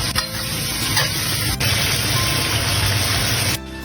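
Chicken pieces stir-fried in a wok with scallion, ginger, garlic, Sichuan pepper and dapanji seasoning, giving a steady close sizzle with light scraping of stirring that cuts off near the end.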